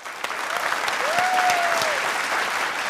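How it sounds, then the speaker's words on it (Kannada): A studio audience on a game show claps loudly and continuously throughout, and a whistle-like tone rises briefly over the clapping. "ಜೋರಾಗಿ ಚಪ್ಪಾಳೆ"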